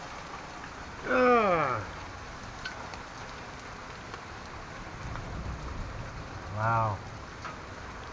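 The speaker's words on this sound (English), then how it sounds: "It's mainly rain now." Steady rain falls after a hail storm in Calgary's Mount Pleasant, a constant soft hiss of drops on surfaces, with two brief exclamations from a person over it.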